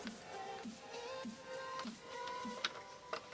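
A small screw is driven into a part of a 1/8 scale Ford GT40 model, giving faint, evenly spaced ticking clicks close by in a quiet room.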